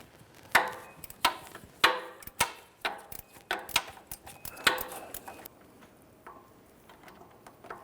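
A 15mm socket and extension on a ratchet work a starter bolt loose on a 1999-2004 Jeep Grand Cherokee, giving a run of sharp, close metallic clicks and knocks in an uneven rhythm that fades toward the end.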